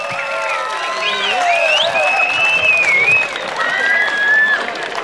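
A beach crowd at Ełk claps and cheers steadily in lively applause, with whistles and shouts rising over the continuous clapping after a Zorba dance record attempt.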